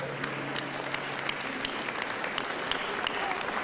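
Applause from a large crowd at an Ottawa Centre community debate, steady dense clapping sustained throughout at close range with crowd murmur underneath.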